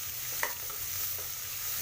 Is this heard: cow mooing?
no